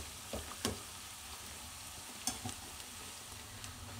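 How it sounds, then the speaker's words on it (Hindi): Cauliflower Manchurian fries gently in oil on a low flame, a faint, quiet sizzle broken by a few soft clicks from stirring, with no voices. "मंचूरियन हमारे फ्राई हो गए हैं"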